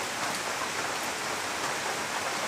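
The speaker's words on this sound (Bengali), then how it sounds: "তো প্রচুর বৃষ্টি হচ্ছে।" Heavy rain pours steadily at night, a dense, even hiss of drops on surfaces that holds unbroken throughout with no other sounds.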